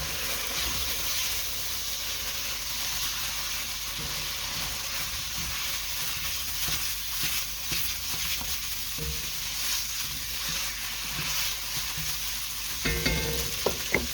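A spicy food mixture sizzles and hisses steadily in a frying pan while it is stirred, with scraping strokes scattered over the continuous frying noise and a few louder clatters at the end.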